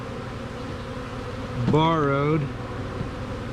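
Honey bees drone at an open hive during cell builder preparation, a low continuous buzz beneath a man's brief spoken word.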